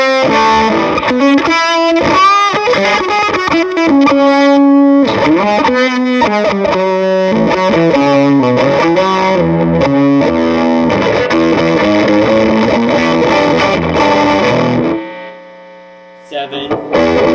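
Electric guitar on the bridge pickup runs through a fuzz pedal with every knob at maximum. It plays a thick, saturated, buzzing riff loud and nonstop for about fifteen seconds, then cuts off, leaving hum and a brief tail.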